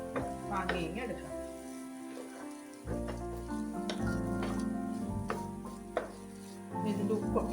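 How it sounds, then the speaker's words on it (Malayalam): Vegetable pulao is stirred in a pan on the stove. Repeated spoon scrapes and clinks against the pan mix with a soft sizzle, with steady tones underneath. "ഇത് നന്നായിട്ട് ഇളക്കി നമുക്കൊന്ന് അടച്ചു വെച്ചിട്ട് 1 മിനിറ്റ് നേരം ഒന്ന് അടച്ചു വെക്കാം"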